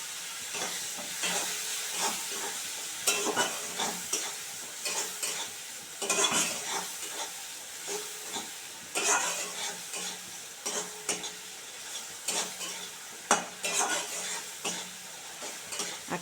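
Ginger, garlic, chilli and Kashmiri red chilli and coriander powders stir-fried in oil for a prawn and spinach dish, with a soft continuous sizzle broken by repeated rhythmic spatula scrapes, close and fairly quiet.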